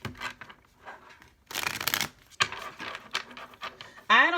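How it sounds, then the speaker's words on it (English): Tarot cards are shuffled up close in quick riffling bursts with soft rubbing between them, ending in a brief higher squeak. "last shuffle"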